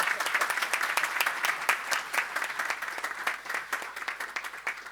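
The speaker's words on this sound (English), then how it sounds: "Big clap for him." An audience applauds an introduced guest at an energy efficiency audit event, with steady, dense clapping sustained throughout and a faint voice briefly underneath.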